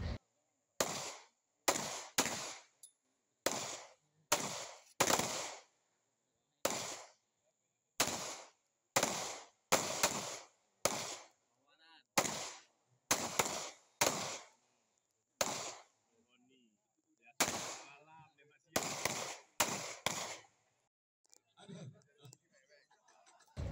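Gunshots ring out at a police shooting competition, sharp loud cracks in irregular bursts of single and paired shots, each followed by a brief echo, with faint talk between volleys.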